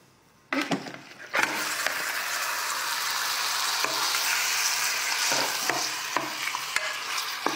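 Fatty meat drops into hot oil in a pressure cooker set to sauté, bursting into a loud, steady sear after a couple of clunks, with small clinks and pops over the continuous sizzle and no voices.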